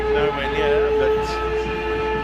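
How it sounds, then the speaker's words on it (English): A rugby sevens hooter sounds at a New Zealand versus Scotland match in Cape Town, a sustained steady horn tone held throughout over broad crowd noise. "the hooter sounding after the ball had been kicked"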